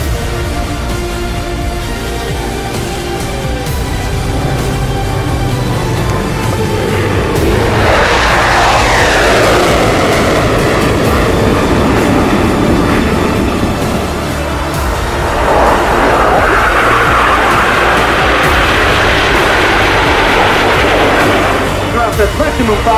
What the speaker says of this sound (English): This is a 3G force maneuver. Now the aircraft is on the top of the looping